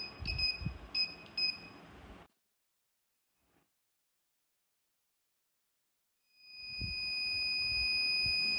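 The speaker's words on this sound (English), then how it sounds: "when this metal detector comes close to a metal, the sound of the beep stops and the vibration starts" A handheld metal detector powered by a 9V battery gives off loud, steady electronic beeps, first in quick repeated pulses, then a gap of silence, then a continuous tone with buzzing underneath.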